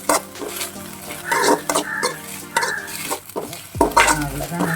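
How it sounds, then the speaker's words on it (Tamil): Curry leaves and coriander sauté in hot oil for a coriander chutney, with a steady soft sizzle under repeated scraping and stirring clatter of a spoon in the pan. "அதெல்லாம் நல்லா ஆயிலில் போட்டு லேசாக வதக்கும் போது சின்னூன்னு ஆயிருங்க"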